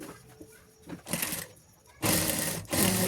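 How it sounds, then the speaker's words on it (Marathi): A sewing machine stitches fabric and lining in two short running bursts, the second louder and longer, with brief pauses between. "हे बघा, यावर वरून शिलाई मारून घ्यायची."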